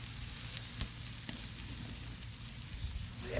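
Hamburgers sizzle on a Breeo X19 fire pit searplate over a wood fire, giving a steady close frying hiss broken by occasional sharp pops and crackles.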